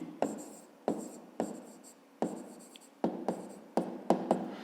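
Pen strokes scratch across paper while writing out a math answer, a series of about ten short sharp scrapes in quick uneven rhythm, close and clear with no talk.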